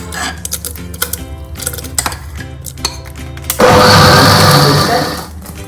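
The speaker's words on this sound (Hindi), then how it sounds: "अब मैं इसे मिक्सी में ब्लेंड करूँगी।" A mixer grinder blending boiled tomatoes starts up loudly with a steady high whine and churning blend, running for about two seconds after some quieter kitchen clatter, then winding down.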